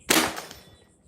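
A single sharp rifle shot cracks close by at a warthog target, followed by a short fading echo.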